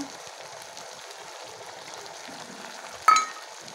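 Mustard paste and tomato paste hit hot oil in a pan, setting off a soft, steady sizzle and crackle up close, with one sharper clink of a utensil near the end.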